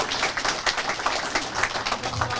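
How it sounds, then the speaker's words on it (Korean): An audience claps at a celebration gathering for a presidential election win, a moderate, fairly even patter of hands that carries on without a break and stays somewhat distant. "다시 한번 박수합시다."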